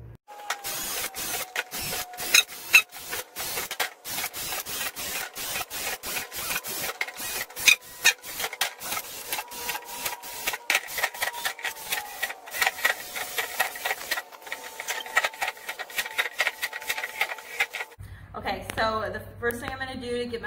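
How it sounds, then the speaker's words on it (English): A drill bores a series of holes in a plastic worm bin, giving a steady whine broken by rapid scratchy rasps and clicks, then a brief pause and a change of tone near the end. "So I'm gonna go ahead and start drilling those holes."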